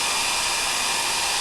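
A hair dryer blows with a steady, loud, whooshing roar, held up close while drying chalk paste on an adhesive-backed reusable silkscreen transfer.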